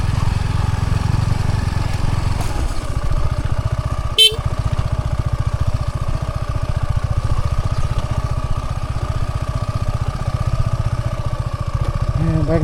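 A motorcycle engine drones steadily while riding along a rough hill road, with a short sharp horn-like burst partway through and a low, constant rumble underneath.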